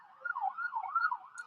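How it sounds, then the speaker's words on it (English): An emergency vehicle siren in a tiny mountain town wails steadily at a distance, rising and falling in pitch, moderately quiet with no voices. "So many sirens here, huh?"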